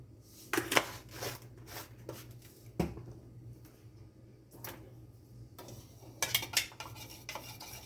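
Homemade spaghetti sauce with Italian seasoning and garlic powder being mixed in a pot, a utensil scraping and clacking against the metal in scattered, close strokes over a low background hum.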